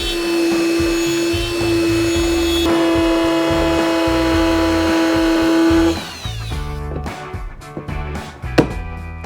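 A power tool enlarging a hole in the bumper of a 2023 Ford Bronco for a trailer hitch, with a loud steady whine for about six seconds, then stopping and starting in short bursts.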